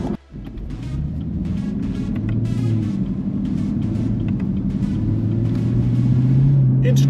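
Supercharged V8 in a Camaro ZL1 coupe rumbles steadily from inside the cabin, a deep droning growl that builds gradually in loudness while a person talks over it.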